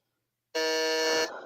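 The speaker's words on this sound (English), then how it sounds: "And let's do a buzzer check for Brittany and for Chayla." A quiz buzzer sounds once during a buzzer check at a college scrimmage: a loud, steady electronic tone that cuts in abruptly, holds for about three quarters of a second, then tapers off.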